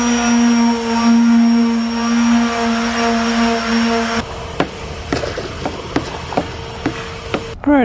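An electric power sander works over tired, cracking painted plywood inside a sailboat, a loud steady whine with a strong hum that drops off midway, leaving scattered knocks and taps.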